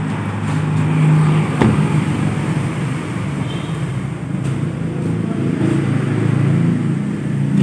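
A 1300 cc four-cylinder engine of a 2015 Toyota Avanza G manual idles steadily nearby with a low, even hum and no talking.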